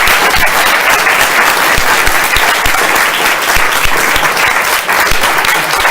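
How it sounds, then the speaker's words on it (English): Loud, sustained applause from a forum audience for a panel at a climate event, dense clapping from a large crowd that stays strong throughout. "Let's have a round of applause for all of our panelists"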